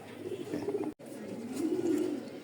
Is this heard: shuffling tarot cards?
no